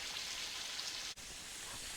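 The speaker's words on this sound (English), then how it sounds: "Okay, so chicken is frying" Steady crackling sizzle of chicken frying in hot oil, a dense hiss with a brief dip partway through.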